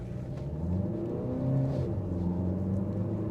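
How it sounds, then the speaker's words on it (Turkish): An automatic Ford Focus station wagon in sport mode accelerates at full throttle, its engine drone rising steadily and loudly through the gears with no talk. "Şimdi sporta aldım ve dip gaz yaptım."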